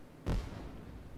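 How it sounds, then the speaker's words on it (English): Dragon fireworks going off in a video game: a single deep boom with a short rumbling tail, loud and alone. "Yay for dragon fireworks."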